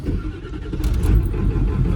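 A 1996 Ford F350 shop truck with a 7.3 diesel engine cranks and fires up, a loud rumbling turnover settling into a steady idle close by, no voices.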